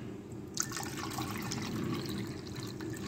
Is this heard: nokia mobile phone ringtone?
no